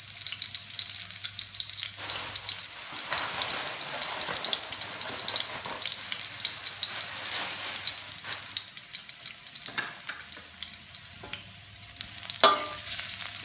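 Three eggs go into a sizzling Isan-style pork stir-fry with pickled garlic in a hot pan. A steady crackling fry runs throughout, with stirring scrapes and one sharp knock near the end.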